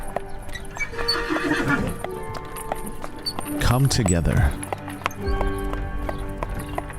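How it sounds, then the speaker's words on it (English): A horse gallops with steady clip-clop hoofbeats and lets out a loud whinny midway, a sound effect playing under a voice speaking throughout. "We hear the galloping of the horse"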